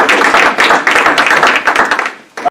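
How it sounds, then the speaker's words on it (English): Audience clapping welcomes Dr. Chris McCluskey to the stage at a speaker series event, a dense run of claps that holds steady for a couple of seconds, then thins and fades near the end. "another big round of applause for him"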